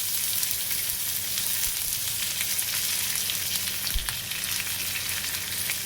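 Curry leaves and chillies sizzle and crackle in hot oil with asafoetida, a loud, continuous frying hiss punctuated by occasional pops and a couple of low thumps from stirring.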